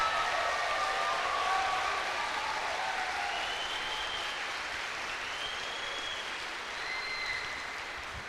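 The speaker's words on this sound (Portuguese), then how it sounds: "Quer aplaudir ou vou ter que pedir?" Church congregation clapping in steady, sustained applause during a sermon, dense and even, heard from within the crowd with a few faint whistles or cheers rising above it.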